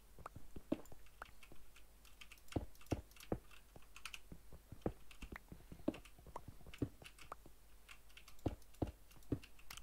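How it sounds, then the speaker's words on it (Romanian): Noisy computer keyboard typing during a Minecraft session, a steady stream of sharp, clacky keystrokes at an uneven rhythm, close and moderately loud over a faint low hum. "E cam gălăgioasă tastatura asta."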